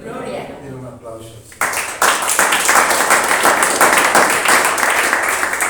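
Congregation applause breaks out at a Sunday church service, a dense, loud burst of many hands clapping that starts abruptly after a brief spoken lead-in and carries on steadily to the end.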